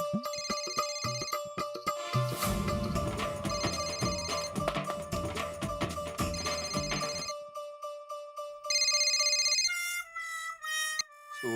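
A loud, melodic electronic phone ringtone plays continuously, a bright repeating tune with layered tones and a brief pause near the end, with no voices.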